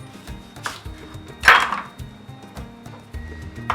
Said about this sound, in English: My onion, I'm going to cut it into 2.